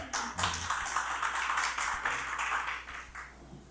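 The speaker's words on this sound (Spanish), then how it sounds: "Démosle una ofrenda de palmas al Señor" Church congregation clapping together in a burst of rhythmic applause, many hands overlapping in a dense patter that swells early and slowly thins out, fairly close, with no talking.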